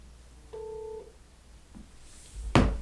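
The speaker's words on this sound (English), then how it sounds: "There's me a phone call." A telephone sounds a brief electronic tone held for about half a second, followed by a faint blip and then a louder sharp burst near the end, in a quiet room.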